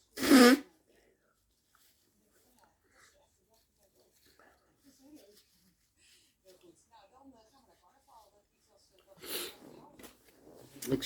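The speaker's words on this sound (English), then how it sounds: "need to blow my nose" A person blows their nose loudly and close by in one short burst. Quiet handling noises follow, then a second snorting blow near the end.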